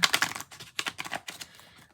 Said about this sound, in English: These are the worst to shuffle, though.